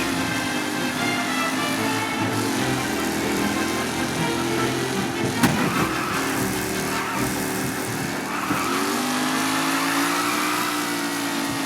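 Race cars in the Mafia Definitive Edition game drone and rev in a tight pack, engine tones rising and falling continuously with a brief sharp crack midway, loud and sustained without any voices.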